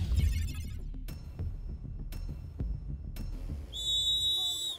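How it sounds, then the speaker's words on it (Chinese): At an outdoor snow football match, a referee's whistle gives one sharp, shrill blast near the end, after a stretch of soft crunching and scuffling noise. "现在裁判已经准备开始吹哨了。"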